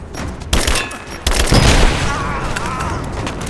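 In the Rise of the Tomb Raider video game, a grenade explodes amid gunfire: loud, close booms hit in quick succession, followed by a heavy rumbling roar that slowly fades.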